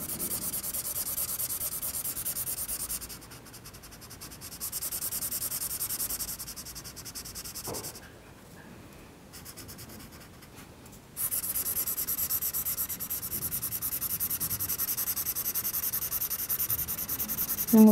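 A black pen draws on paper in steady scratchy strokes, close and fairly quiet, with short pauses between bursts of line-making and no talking.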